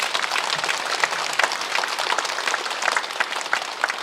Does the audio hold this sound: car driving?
no